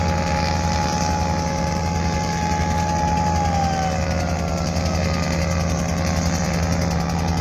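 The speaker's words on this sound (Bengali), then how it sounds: "বেতেচরবেশন রোডের সবচেয়ে বড় দুটি বিলাসবহুল লঞ্চ এইমাত্র মঙ্গলশিকদার লঞ্চ ঘাটে ঘাট দিল" Two large luxury passenger launches arrive at Mangal Sikdar launch ghat in Lalmohan, Bhola, giving a loud, unbroken diesel-engine drone with a deep tonal hum and a thin whine riding above it, with no voices.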